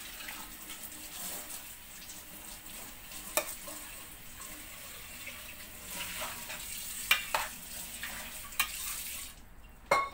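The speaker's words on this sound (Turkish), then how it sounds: "Şöyle iyice karıştıracağız bunu. Kavrulsun." Food being stirred and pan-fried in a home kitchen for dinner, a soft continuous sizzle with scattered scraping clicks of a utensil against the pan, some light clatter near the end.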